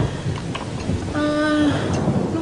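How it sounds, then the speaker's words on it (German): Thunder from a heat thunderstorm rolls as a low, steady rumble under faint rain-like hiss, with a brief tonal whistle partway through. "Nein, wahrscheinlich nur ein Hitzegewitter."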